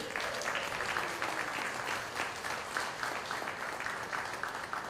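A theater audience at a Broadway in Hawaii show applauds Mayor Rick Blangiardi, a dense, sustained roar of many hands clapping at steady volume throughout, with no voices on top.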